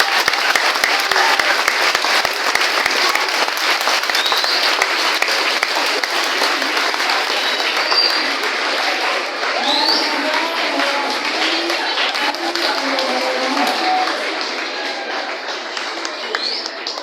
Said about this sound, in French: On applaudit très fort pour le